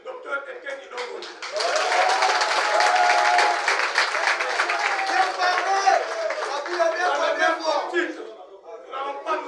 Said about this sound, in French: je demande à la salle d'applaudir pour le courage du docteur Etienne Ilongo.